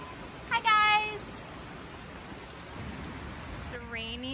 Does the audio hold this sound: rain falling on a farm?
yes